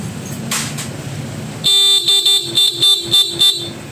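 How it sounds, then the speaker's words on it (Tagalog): A Honda ADV160 motorcycle's stock horn honks in a rapid series of short, bright beeps, close and loud, after a few seconds of low background noise. "Sige, stock horn ulit."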